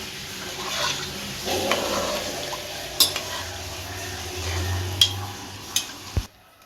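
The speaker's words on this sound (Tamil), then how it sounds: "இப்போ நல்லா மிக்ஸ் பண்ணி விட்டுருவோம்" A beef mixture with water being stirred in a pressure cooker, with soft scraping and a few sharp metallic clinks of the spoon against the pot toward the end, fairly close and alone.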